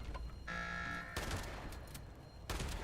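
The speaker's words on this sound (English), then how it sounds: "Shotgun is doing its job" Shotgun blasts in Fallout 76, a couple of loud booming shots separated by a pause, with a sustained tonal game sound between them.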